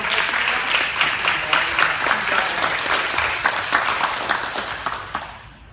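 A room claps steadily for Elijah's belt promotion as he receives his certificate, an even round of applause that holds for several seconds before tapering off at the end.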